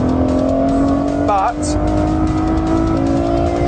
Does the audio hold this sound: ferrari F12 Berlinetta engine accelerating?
yes